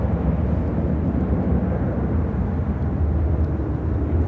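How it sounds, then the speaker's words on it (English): A United Airlines Airbus A320 taking off at Chicago O'Hare, a steady broadband jet roar heavy in the low end that holds constant at a distance, with no voices. "This is United Airlines 2195 taking off to BDL Windsor Locks"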